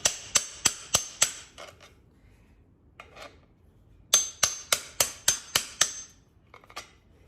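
Hammer tapping a deep well socket onto a Ford Edge Sport rear shock, two runs of rapid, evenly spaced metallic strikes, close and loud, with a pause between.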